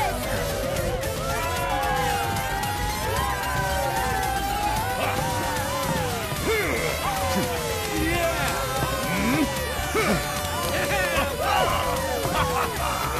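A loud crowd in Final Fantasy 7 Rebirth roars and cheers continuously at the Gold Saucer, with shouts and yells layered over dense applause-like noise throughout.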